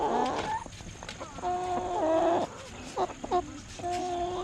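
Show-quality chickens such as Cochins and Cream Legbars, kept off the ground, cluck and squawk in close, repeated bursts, with a few longer calls between short pauses.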